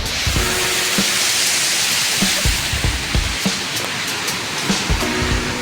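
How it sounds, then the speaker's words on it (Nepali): Powerful waterfall at Sundarijal thundering in a steady, loud broadband roar of rushing water, with faint low voices and occasional thumps beneath the spray. "यो त झन् खतरा झरना"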